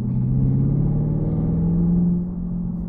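Chevrolet Camaro SS 1LE with an MBRP exhaust rumbles loudly from inside the car, a deep steady engine drone that eases off slightly at the end, no speech.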